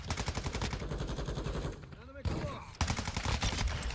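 Rapid automatic gunfire in a multiplayer shooter video game fires in continuous close bursts with brief pauses, and a voice briefly cuts in between them.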